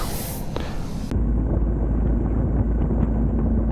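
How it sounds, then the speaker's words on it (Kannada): Strong wind buffets the microphone in a loud, continuous roar, gusting harder after the first second. "ಗಾಳಿ ಏನು ಸ್ಪೀಡಾಗಿ ಹೊಡಿತಿದೆ"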